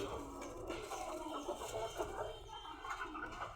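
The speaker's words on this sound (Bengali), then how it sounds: "এই যে আমার মুরগির ঘর, এটা এখানে মুরগি রাখি আমি" Chickens clucking inside a coop, soft overlapping clucks and murmurs close by, quiet and continuous throughout.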